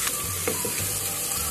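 Onions browning in a pan for an aloo baingan sabzi, a steady close sizzle with a few small crackles, continuous and fairly loud, no voices.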